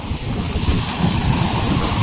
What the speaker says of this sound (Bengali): পুরো পুরীর সমুদ্রের মতন ঢেউ আসছে